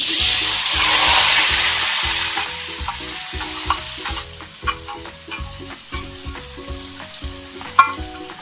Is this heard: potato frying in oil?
yes